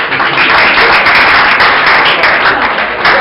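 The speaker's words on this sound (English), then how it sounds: "can you clap for those people over 5 years?" Loud, dense clapping from an audience at a talk on running a ready-to-wear business, honoring longtime members, sustained and close for the whole stretch.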